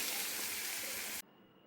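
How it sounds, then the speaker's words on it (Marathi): Water poured into a hot pan of masoor dal, a loud rushing hiss for about a second that cuts off abruptly into quiet. "आपण थोडंसं पाणी टाकूया."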